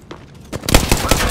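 Gunfire in Apex Legends, a burst of rapid close shots with sharp repeated cracks after a quieter opening, loud and dense in the second half.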